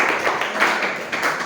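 A few people clap for Fajar during a teacher-training mentoring session, giving brief uneven rounds of hand claps that rise and dip, close by and moderate in level.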